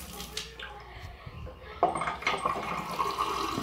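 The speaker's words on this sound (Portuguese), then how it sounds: "Estou colocando água." Water runs and splashes into a container while someone fills a perfume bottle, starting faintly and growing to a steady pour near the end.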